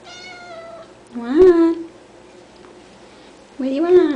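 A cat meows twice, with a pause between the two calls, close by and fairly loud; a person speaks softly at the start.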